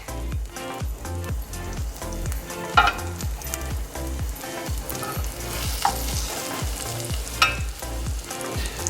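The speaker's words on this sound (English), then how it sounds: "perhaps you guys can hear the butter and olive oil starting to crackle" Crustaceans fry in butter and olive oil in a pan, a steady close sizzle with dense crackling and a few louder pops throughout.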